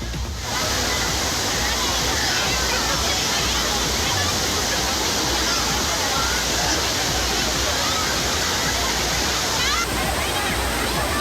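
Water cascading like a waterfall over Kodiveri dam, a loud, steady broadband roar that runs unbroken from start to finish, close and dense.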